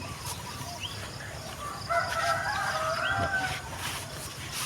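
Wild jungle fowl crowing in the forest: a single drawn-out crow rises clearly midway, moderately distant over a steady outdoor hiss of insects and wind.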